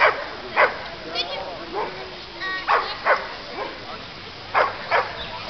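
A dog at a dog show barks and yips repeatedly in short, sharp bursts, fairly close, while people talk throughout.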